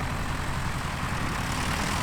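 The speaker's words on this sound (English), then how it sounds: "why don't we just let the airplanes speak for themselves?" Bush planes roar loudly as they depart a glacier airstrip at a pilot gathering, a steady broadband propeller and engine drone filling the whole stretch without pause.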